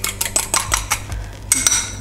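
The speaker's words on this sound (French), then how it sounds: "Et on les rajoute à la panade et on mélange énergiquement." Beaten eggs worked vigorously into a thick, compact choux panade for chocolate and coffee éclairs, giving a run of close, irregular scraping clatters of spoon or whisk against a bowl, with no talking.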